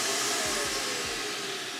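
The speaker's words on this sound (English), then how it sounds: "keeping this trailer clean has never been easier with our central vacuum system" A central vacuum system in a 2023 No Boundaries 19.2 travel trailer runs with a steady, loud rushing whoosh and a faint low rumble, with no voices.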